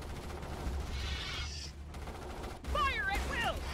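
Battle gunfire in the sci-fi strategy game Starship Troopers: Terran Command, with steady rattling volleys throughout, a dense burst near the start and a louder clash of shots and shrill alien-like cries toward the end.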